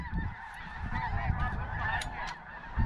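Canada geese honk repeatedly during a goose hunt in Alberta, a flock's overlapping calls heard at moderate distance over low wind rumble.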